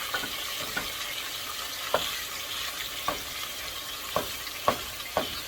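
Lean ground beef sizzles in a pan, a steady soft frying hiss broken by several sharp scraping clicks of a utensil stirring and breaking up the meat.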